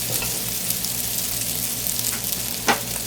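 Red and yellow capsicum and sweet corn hitting frying garlic in a pan, a steady close sizzle with faint stirring scrapes and a small clatter near the end, no talk.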